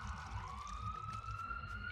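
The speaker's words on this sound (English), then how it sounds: "Maybe not quite as loud as the ambulance that's about to go by." An ambulance siren in a game setting sweeps in a long rising wail, fairly loud over a low rumbling background, its tone climbing steadily as it passes.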